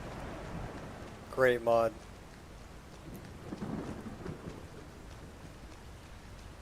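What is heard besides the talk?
thunderstorm with rain and lightning, from modded video game Skyrim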